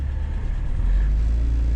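A 1960s Mini's engine runs loud and close, a steady low rumble with a slight rise in revs partway through, no voices over it.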